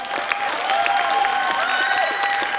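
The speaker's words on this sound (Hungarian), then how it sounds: "Szeretnék kérni nekik még egy tapsot." Audience applause at a Hungarian Asszonyfarsang carnival gathering, dense continuous clapping with a few cheers and voices mixed in, close and fairly loud for a brief stretch.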